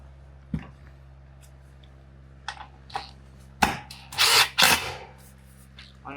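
Impact driver setting screws into the trim of an 8-foot panoramic barrel sauna with a porch, heard as scattered taps followed by two loud, short rattling bursts close by, without speech.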